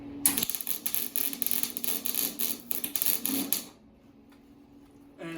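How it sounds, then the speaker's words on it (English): Tack welding on the metal frame of a table and shoe rack, a loud close crackling buzz that runs steadily for about three seconds and then stops abruptly, leaving quiet room tone before a brief noisy burst at the end. "tack weld it"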